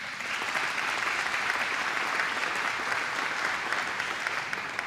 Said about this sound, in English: another round of applause for Mary